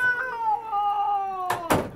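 A cat gives one long, drawn-out meow with a wavering pitch, close and clear, followed by two sharp knocks or bumps near the end.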